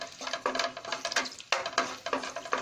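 Garlic sautéing in oil in a pan, a soft steady sizzle with repeated stirring scrapes and light clinks of a utensil against the pan, close and without talk.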